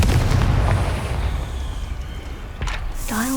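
A Confringo fire spell blasts in Hogwarts Legacy, a loud rumbling explosion that fades into a lingering roar, with a brief magical whoosh and rising tone near the end.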